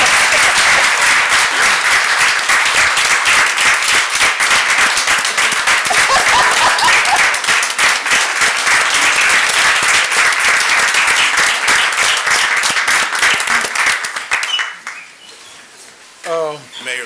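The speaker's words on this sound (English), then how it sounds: "I think it's appropriate to give him a round of applause" An audience at a city council meeting in Roanoke claps in a loud, sustained round of applause for a council member, thinning out near the end as a few voices and scattered sounds remain.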